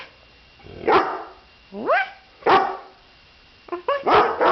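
A dog barks four times in short separated bursts, close and fairly loud, with slightly rising yelping tones in a quiet room.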